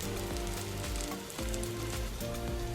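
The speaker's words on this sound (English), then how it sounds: "We can still keep using same oil to cook okonomiyaki and we can get flavor from bacon." Okonomiyaki frying in leftover bacon oil over medium heat, a dense steady sizzle with a faint low hum underneath, close and even throughout.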